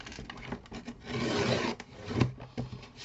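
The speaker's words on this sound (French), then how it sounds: "Donc je vais couper mon papier à" Close, steady scraping and rasping of a blade drawn through paper while cutting card stock for a pocket card, with a few short strokes and a louder cut near the end.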